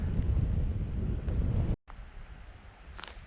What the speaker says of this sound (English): Now the wind picks up